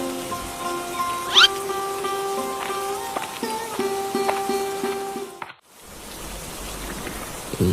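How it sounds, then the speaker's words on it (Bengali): Steady rain patters throughout, with a dense wash of droplet noise, brief tonal chimes and a short dropout before the rainfall continues. "সে সকাল থেকে এক নাগাড়ে বৃষ্টি নেমেই চলেছে"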